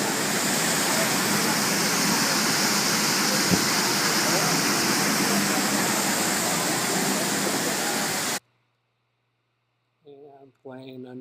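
A waterfall roars as a loud, steady broadband rush for most of the clip, then cuts off abruptly, followed by a short silence and a person speaking.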